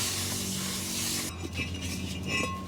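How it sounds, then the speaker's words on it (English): A can of brake cleaner hisses in a short, close aerosol burst onto a paper towel during a front brake pad and rotor job on a 2014 Mazda 3 2.5L, then gives way to quieter wiping and handling noise. "I usually just spray it on a little paper towel here and then just wipe that down."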